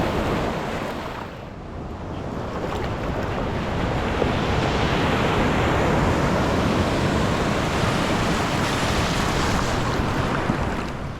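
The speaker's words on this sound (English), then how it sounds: "Some of the waves are coming really back to back today." Ocean waves break back to back onto the shore at a surf beach in San Pancho, Mexico, a loud continuous crashing wash with wind buffeting the microphone and no voices.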